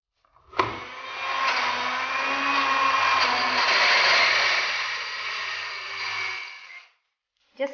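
A mixer grinder blends a peanut mixture in one steady, loud whirring run of about six seconds that starts abruptly and cuts off, with a faint click just after it stops.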